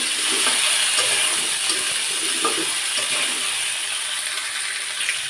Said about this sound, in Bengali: সিমগুলা দিয়েও সুন্দর করে ভাজি করে নিতে হবে